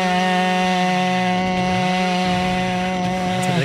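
A chainsaw in the video game Dead by Daylight drones loudly and continuously with a steady pitch, pitching briefly and cutting off at the end.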